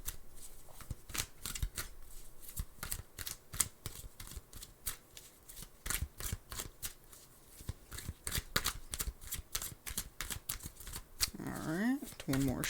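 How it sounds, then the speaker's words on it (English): Tarot cards being shuffled in a repeated run of crisp riffling flutters, close and steady, with a short burst of speech near the end. "Alright, one more shuffle."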